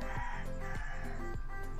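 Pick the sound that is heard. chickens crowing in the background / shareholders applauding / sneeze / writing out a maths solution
chickens crowing in the background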